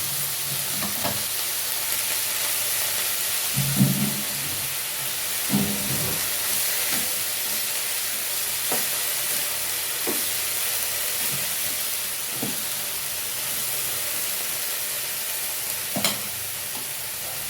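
Mustard seeds popping and spluttering in hot oil while cooking a banana flower stir-fry, a steady sizzling hiss with scattered sharp crackles and occasional stirring clatter, close and continuous.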